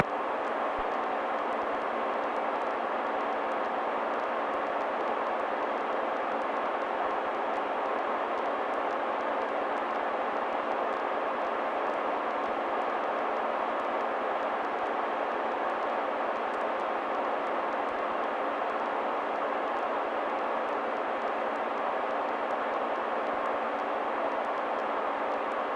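Steady, unbroken drone of a Cirrus SR22 light aircraft engine heard from inside the cabin during a morning flight, loud and even throughout with no talking.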